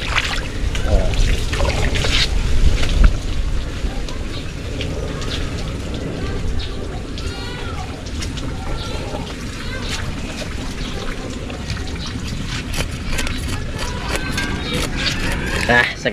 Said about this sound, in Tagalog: Kung malakas kang magbomba, malakas ang tubig.